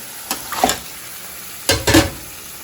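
Pieces of pangas fish stir and sizzle in hot oil in a home kitchen pan, two short bursts of frying and scraping separated by a quiet pause, close and fairly loud.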